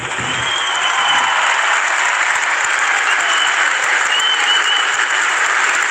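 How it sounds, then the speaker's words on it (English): Stadium crowd at an NRL rugby league match between Dragons and Bulldogs applauding in tribute to a late figure, a steady, loud, distant wash of clapping that never lets up. "So the applause, which is fantastic."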